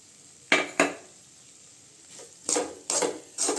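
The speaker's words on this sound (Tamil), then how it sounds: "தேங்காய் சேர்த்துட்டு கொஞ்சம் கிண்டி விட்டுக்கலாங்க" A spatula stirs a beetroot and chana dal stir-fry with grated coconut in a pan, giving a few separate clanks and scrapes against the metal with a quiet pause between them and only a faint sizzle.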